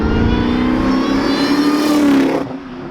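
A supercharged 500whp Ford Terminator Cobra engine revs hard and close, its loud steady roar topped by a high, sustained supercharger whine for about two and a half seconds before cutting off abruptly.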